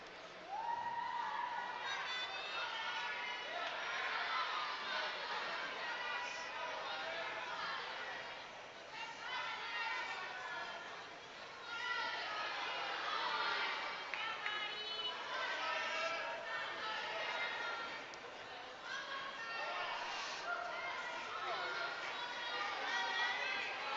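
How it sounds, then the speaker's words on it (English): Spectators at a provincial lead and top rope climbing competition finals cheer and chatter in a broad, steady crowd roar that swells and dips over about twenty seconds, with a commentator talking over it. "Crowd cheers for an iron"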